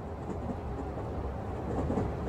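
A train rolls steadily along in the video game Honkai Impact 3, a continuous low rumble of carriage noise holding at an even, moderate level throughout with no voices.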